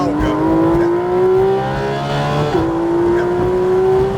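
A Porsche GT3 RS race car accelerates hard on the New Hampshire Motor Speedway track, its engine pitch climbing steadily, dropping at a quick gear shift, then rising again. The sound is loud and close, with speech from inside the car over it.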